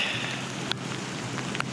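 Rain falls steadily as a dense, even hiss with a couple of sharper drop ticks, heard outdoors during a solo cycling ride across South Korea.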